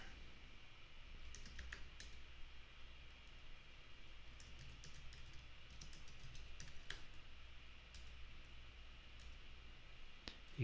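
A password being typed on a computer keyboard during server setup: a quick run of faint, close key clicks in irregular bursts over a low background hiss, with no one speaking.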